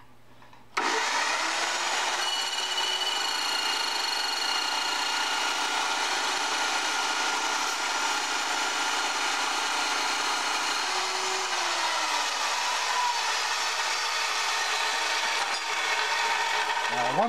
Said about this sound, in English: bring it up to let it reach full speed before you start your cut